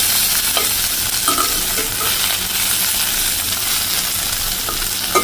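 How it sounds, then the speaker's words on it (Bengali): Fish fries in a pan alongside shapla water lily stems, producing a loud, even sizzle with occasional light stirring clicks close by. "ছাপলার সাথে একটু মাছ ভাজবো"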